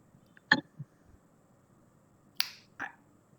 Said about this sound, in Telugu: చిటిక వేసాము